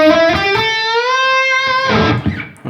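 An electric guitar lick: quick picked notes running down, then a long sustained note bent up a step and a half, held with a slight waver before fading. Played alone, close and clear.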